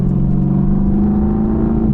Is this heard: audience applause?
no